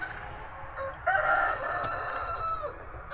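A rooster crows once loudly and nearby, a drawn-out call of about two seconds in a chicken coop with steady background noise.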